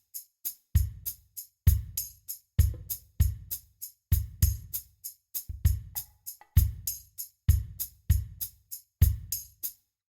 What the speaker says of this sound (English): all of them sounds come out of this Triton brush kit